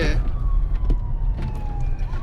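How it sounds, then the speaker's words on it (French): An ambulance siren wailing at a steady mid-distance while a vehicle engine rumbles close by, with a brief voice at the start. "L'ambulance qui s'en vient."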